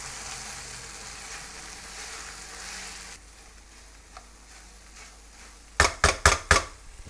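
Cooked rice added to a hot pan for kimchi fried rice, a soft sizzle that drops away, followed by a few sharp utensil knocks against the pan near the end.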